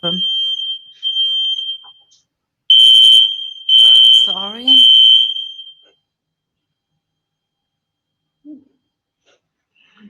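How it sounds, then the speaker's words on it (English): A smoke alarm sounds in loud, high-pitched beeps, three long bursts in a row after softer tones, while a person briefly speaks between them. "Sorry, but it's the fire alarm."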